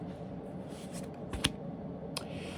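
Tarot cards are shuffled in a short soft riffle with a couple of crisp flicks, close and quiet against a faint room hiss, no voice.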